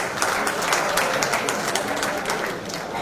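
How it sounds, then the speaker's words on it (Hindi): Sustained, dense applause from an audience at a ceremony honoring a blood donor who has given blood 100 times, with many hands clapping steadily for about three seconds. "उनके सम्मान में एक बार जोरदार ताली हो जाए"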